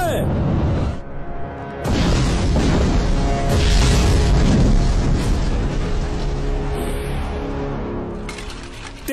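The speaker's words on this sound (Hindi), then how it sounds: "रुक जाओ, इसके आगे तोपों की मार है।" Cannon fire in a battle scene, heavy booming blasts and rumbling impacts running almost continuously, loud and close, with dense mixed sound and shouting throughout.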